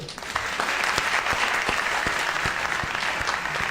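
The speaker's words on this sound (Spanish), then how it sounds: "Eso merece un aplauso, ¿verdad?" Congregation applause fills a Spanish-language church service: a dense, continuous wash of many hands clapping at once, steady and fairly loud throughout with no voices on top.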